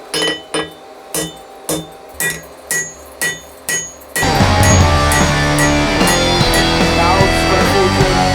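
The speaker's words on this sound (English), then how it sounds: "now I'm using the cross-peen hammer to spread the material this way and not that way" Cross-peen hammer forging a knife blade from coil spring steel, about nine sharp ringing blows in a steady rhythm, close and loud, then giving way to a dense continuous clattering wash of metallic noise.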